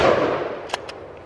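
At an outdoor shooting practice, a fading gunshot blast is followed by two sharp, brief cracks in quick succession, fairly close and with no talk.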